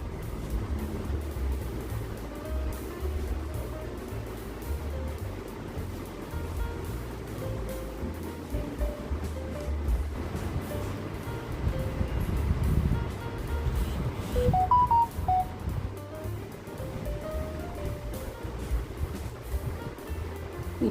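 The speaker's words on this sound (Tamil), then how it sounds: "இப்போ கொதிக்குது, கடலையும் சேர்த்து கொதிக்க விட்டுறலாம்." A pot of chickpea curry made with small black chickpeas simmers at a rolling boil, giving a continuous low bubbling rumble with faint pops, close and steady.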